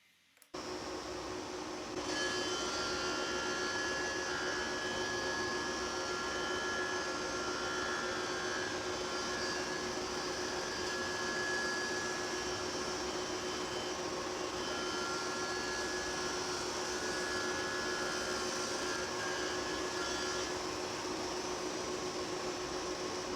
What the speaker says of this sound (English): used the tall Whitehill block with a matching bearing to pattern mill the arch smooth and consistent